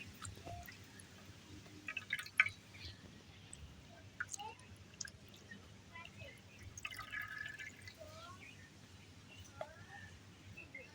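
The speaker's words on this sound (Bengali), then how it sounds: "লাউ পাতাগুলো ভালো করে ধুয়ে নিতে হবে।" Faint dripping and splashing water as bottle gourd leaves are washed one by one, soft and close, with quiet scattered clinks and a voice talking over parts of it.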